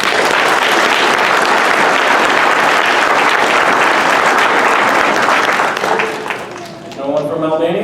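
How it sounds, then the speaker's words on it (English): A round of applause at a naturalization ceremony as a country is called: loud, steady clapping from a crowd for most of the time, dipping briefly before a voice speaks near the end. "respond to every country called with a round of applause"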